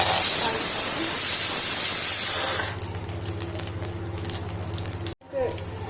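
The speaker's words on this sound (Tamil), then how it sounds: "இப்படி ரெண்டு ஸ்பூன் ஆயில் விட்டுக்கோங்க அடுத்து எடுத்து வச்சுருக்க இந்த கடுகு உளுத்தப்பருப்பு ஜீரகம் அண்ட் கருவேப்பிலை போட்டு" Mustard seeds, urad dal, cumin and curry leaves hit about two spoons of hot oil in a Tamil kitchen, starting with a loud, dense spattering hiss that drops to a softer steady sizzle before a brief break.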